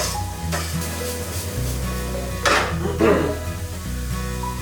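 Chopped garlic hits a hot pan with a steady sizzle, alongside a couple of sharper clatters of utensils against the pan, with faint music underneath.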